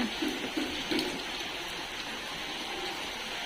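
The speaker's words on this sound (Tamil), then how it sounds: "நல்லா மழை பெஞ்சிட்ருக்கு" Heavy rain pours outside on a dark afternoon as a dense, steady hiss, with a few heavier drip splashes early on and no voices.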